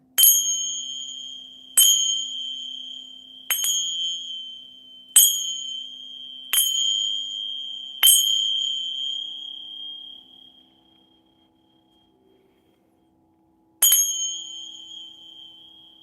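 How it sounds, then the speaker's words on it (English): Sacred chimes are struck seven times to clear a room, each a bright ringing tone that slowly fades: six strikes at a steady interval of under two seconds, a pause of several seconds, then one more. "I'm going to use my sacred chimes to clear the room and all of the cards and everything"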